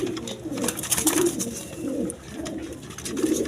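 Baby American Felter pigeons in a dark surma-coloured pair coo close by in steady, overlapping low throaty rolls, repeating through the moment with no talk.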